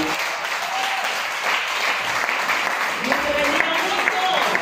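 Steady audience applause fills a church conference for children's Bible school teachers, broad and sustained throughout, with faint voices mixed in.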